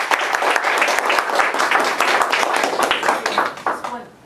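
Audience applause closing the first half of a linguistics tutorial at a conference, dense steady clapping from a room full of people, fading toward the end.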